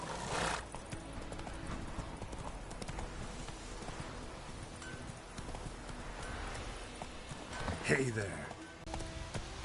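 Roach, a horse in the video game Witcher 3, clip-clops along at a quick gait with a brief whinny near the end, while someone talks over the hoofbeats.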